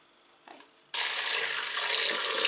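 Broth from a pot of homemade soup with meat is poured out. After a quiet start with faint clinks, a loud, steady gush of liquid comes in and carries on to the end.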